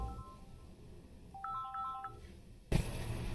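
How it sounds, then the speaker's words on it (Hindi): An incoming call rings on a mobile phone: a short, faint repeating electronic ringtone melody over quiet room noise, cut off by a sudden louder burst as the call is answered. "आप देख सकते हैं मेरे मोबाइल पर फ़ोन आ गया, मैं इसको रिसीव कर लेता हूँ।"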